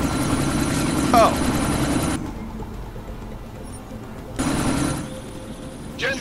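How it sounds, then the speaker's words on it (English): Helicopter in the video game Deus Ex: Mankind Divided, a loud, steady rotor and engine roar that cuts out and returns, with voices briefly heard over it. "What the fuck am I supposed to do about the chopper?"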